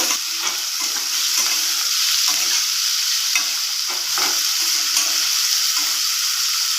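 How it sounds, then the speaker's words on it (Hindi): Cut potatoes fry in hot oil with cumin seeds, giving a loud, steady sizzle and crackle with occasional stirring scrapes, close up and without voices. "जीरा टिके फुटी गला परे आमे सेतिरे काटी रखिथिबा आलू को दे भाजी नबा"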